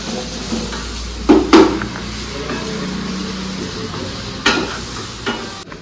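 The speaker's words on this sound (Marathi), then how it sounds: "फ्राय केल्यानंतर चांगला फ्राय करून घ्यायचा मटकी" Matki (moth beans) frying in a pan while a spoon stirs them, a loud steady sizzle cut by a few sharp scraping clatters against the pan, close up, with no voices.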